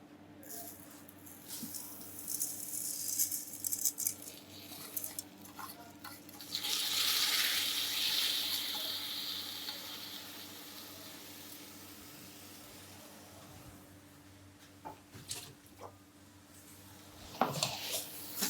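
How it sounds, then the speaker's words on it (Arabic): Rice tipped into a hot pot with vermicelli and stirred, making a brief rushing scatter and then a soft sizzling scrape that fades to quiet, faint spoon scraping. "نبتدي نحط الرز بتاعنا."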